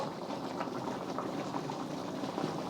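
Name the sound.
Mongolian beef sauce and pasta simmering in a wok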